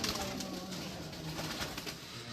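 Pigeons on a rooftop coo softly against a steady background hum, with a low, continuous murmur of bird calls and no clear talking.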